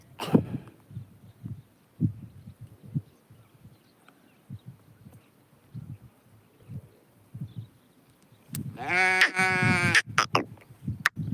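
Sheep on a farm give a loud, harmonic bleat near the end, after a long stretch of soft, scattered low thumps and shuffling.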